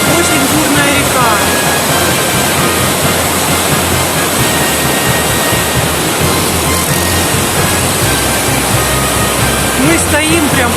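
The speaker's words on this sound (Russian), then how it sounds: "Очень бурная река." Turbulent mountain river roaring through the Cherek gorge beneath a sheer cliff, a loud, continuous broadband rush of whitewater that stays dense and unbroken from start to end.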